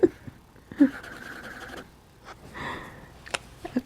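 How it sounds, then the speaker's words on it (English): Loud dog snoring in a quiet room, a few rough breathy snorts and pants in irregular bursts alongside faint scratching like marker on paper. "One of my dogs is snoring in the background very loudly."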